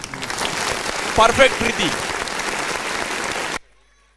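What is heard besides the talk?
applause for player of the match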